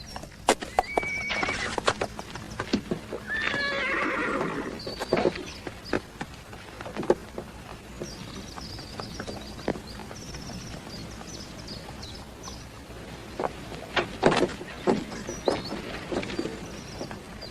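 A horse whinnies loudly near the start, then hooves clip-clop unevenly on hard ground, with occasional faint bird chirps in the background.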